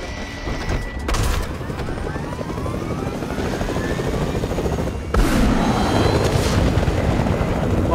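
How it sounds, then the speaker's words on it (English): Loud, close helicopter rotor thumping continuously, with a sudden booming surge partway through. "The helicopter!"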